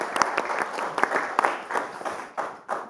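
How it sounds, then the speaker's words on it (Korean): An audience at a Democratic Party leadership candidate debate applauds briefly, a short burst of scattered clapping from a modest crowd that thins out into a few individual claps. "박수 한번 부탁드리겠습니다."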